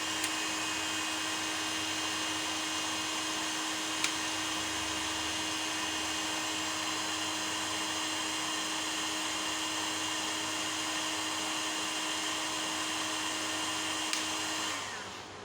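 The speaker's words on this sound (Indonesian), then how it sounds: "di sini kipas atau fan sudah berfungsi dengan normal ya, atau berputar dengan normal karena ada peningkatan suhu dari inverternya di sini." The cooling fan of a 2 kW 24 V pure sine wave inverter spins steadily under heavy load, a loud continuous whirring hum with a constant tone that cuts off near the end.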